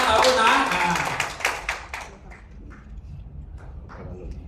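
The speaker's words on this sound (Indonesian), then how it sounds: "Boleh kasih satu tepuk tangan untuk Incawe" A crowd of people at a detox event at the company HQ in Kuala Lumpur gives a short, loud burst of clapping that dies away after about two seconds, followed by a few faint scattered claps.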